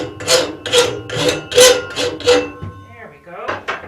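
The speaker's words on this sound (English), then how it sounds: "this hot rasping, this rasping on the back of it, is actually what controls the size of the opening" A rasp files the back of a hot forged iron latch body in six loud, evenly spaced strokes, then a few softer, quieter scrapes follow.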